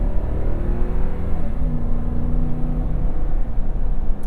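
A 2021 Lexus LX 570 with its 5.7 liter V8 drives along, a steady low engine hum and road rumble heard from the cabin, with a brief tonal rise in revs midway.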